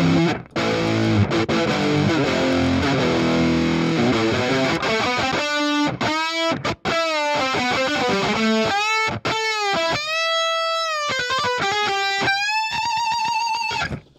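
A Shreddage 3 Jupiter virtual electric guitar with a distortion preset plays a thick, gritty chord passage, then ringing sustained notes and bending single lines, loud and alone.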